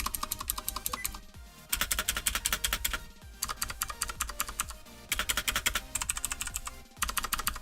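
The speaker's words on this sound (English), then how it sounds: "the spacebar, since it is longer than any of the other keys on the keyboard, the springs in it kind of sound a little off." Rapid typing on a budget Kumara RGB mechanical keyboard, with clattering key presses and the deeper, slightly off-sounding spacebar springs. Loud, close bursts of keystrokes are broken by short pauses, and no one speaks.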